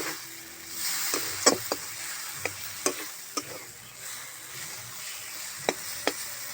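Fried fish is turned through hot masala in a pan. The sizzling stays close and continuous, broken by occasional spoon knocks and scrapes.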